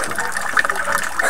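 Water rushing and trickling through a small model dam built with straw, carving an erosion channel; a steady close gushing splash over the short stretch.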